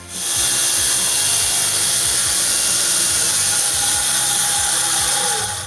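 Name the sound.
circular saw cutting wood pieces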